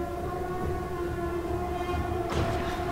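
A train approaching in the zombie game Resident Evil 6, a steady droning rumble with sustained horn-like tones that swells into a louder, brighter burst near the end, with no talk over it.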